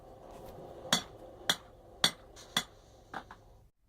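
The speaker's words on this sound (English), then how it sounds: "this is just cleaning it up and taking out any little hammer dings, this, that, and the other, planishing, if you will" A hammer planishes a metal workpiece to smooth out small dings, ringing in five sharp, evenly spaced blows about half a second apart, close and clear over a quiet background.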